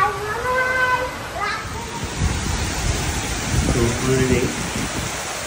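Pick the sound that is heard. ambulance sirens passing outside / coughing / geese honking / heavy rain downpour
heavy rain downpour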